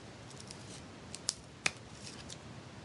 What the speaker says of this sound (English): I'm going to cut the little stamen off